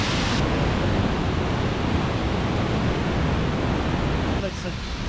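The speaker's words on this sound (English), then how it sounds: "Like such waterfalls in the middle of the jungle" A jungle waterfall pours as a loud, constant broadband rush, close by and unvarying, easing slightly near the end.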